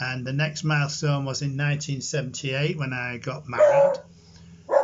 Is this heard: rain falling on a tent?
no